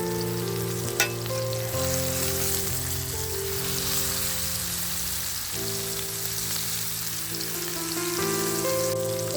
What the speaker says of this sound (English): Drop those steaks in there and we'll cook them for 2 minutes on each side